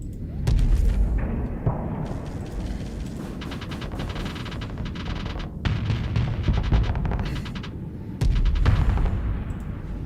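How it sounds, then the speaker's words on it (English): Hellborn cannon fire in the space strategy game Starsector, a continuous heavy barrage of booming, crackling blasts with surges of louder impacts, dense and close throughout with no talk. "Yep, it's a Hellborn cannon."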